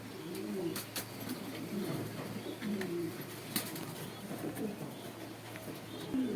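Racer and exhibition pigeons coo softly and repeatedly inside a cage, low rolling calls recurring throughout under occasional background voices.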